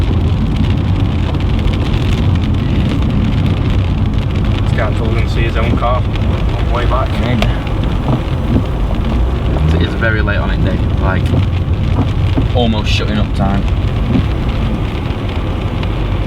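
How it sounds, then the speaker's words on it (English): Heavy rain pours down around a Lexus GS430, a dense constant hiss and drumming that runs throughout, with people talking over it. "it is absolutely belting it down."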